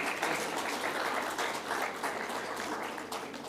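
An auditorium audience applauds CEOs at a human capital summit, a steady wash of clapping that holds at an even level from start to finish with no speech over it.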